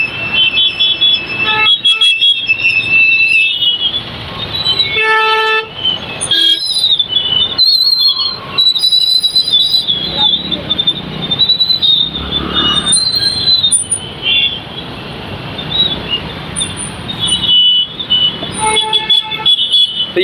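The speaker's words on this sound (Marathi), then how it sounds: "हे बघा मित्रांनो या ठिकाणी बघा किती ट्रॅफिक झालेला आहे" Vehicle horns honk repeatedly at a busy Baramati MIDC road junction during a traffic jam, with loud, near, overlapping toots layered over continuous dense engine and road noise.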